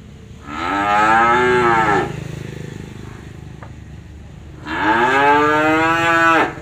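Zebu cattle at a cattle farm in Trà Vinh give two loud, drawn-out moos close by, separated by a few seconds of quieter background noise.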